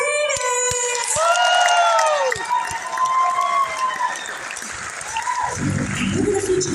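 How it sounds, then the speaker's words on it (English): Concert audience at a tribute show in Yuma, Arizona clapping and cheering loudly and steadily, with music and a singing voice carrying over the crowd noise. "Come on, let's see you clap those hands! Keep that going!"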